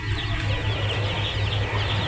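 Tiger Sonali farm chickens clucking steadily at close range, a continuous low murmuring cluck over a constant background hum, with no talk.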